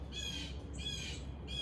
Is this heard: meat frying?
no